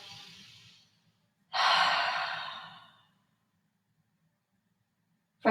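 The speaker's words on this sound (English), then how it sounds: "Big belly breath." Deep belly breaths taken while lying on the back during a stretching routine: a soft exhale, then a long loud sighing breath lasting over a second that fades out, with quiet room hum underneath and no talking.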